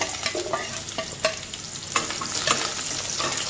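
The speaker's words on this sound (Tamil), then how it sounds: "இப்போ நம்ம வந்து வெங்காயம் வரமிளகா கருவேப்பிலை எல்லாத்தையும் ஆட் பண்ணிக்கலாம்" Chopped onion, dried red chillies and curry leaves crackle in hot tempering oil already popping with mustard seeds and fenugreek for mutton sambar; a close, steady sizzle runs throughout, broken by sharp scraping stirs of a spoon.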